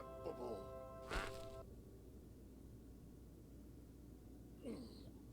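A cartoon duck quacks a few times in an anime episode, faint against a quiet hiss, with one short loud burst between the quacks.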